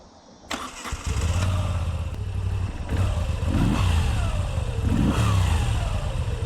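A Moto Guzzi V9 Bobber SE motorcycle engine fires up and settles into a steady, throbbing idle, then takes two sharp throttle blips, loud and close, with no talking.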